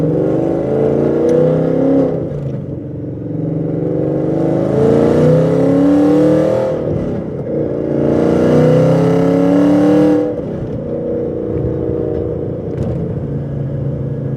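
A 2016 Ford Mustang RTR engine revs and pulls through gears, its low rumble rising and dropping in pitch across two surges, loud and close with no talk.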